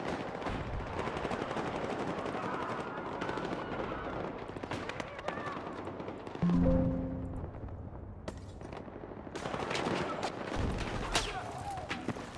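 Sniper rifle gunfire in a video game, sharp shots cracking over a steady game soundscape with a heavier burst midway, someone talking over it.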